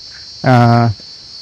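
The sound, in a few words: many insects chirping at night in the forest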